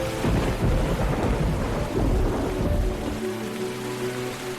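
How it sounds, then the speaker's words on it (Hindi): Heavy rain pours steadily with rolling thunder rumbling low underneath, a dense, loud wash of drops that eases slightly near the end. "बारिश तेज हो रही है।"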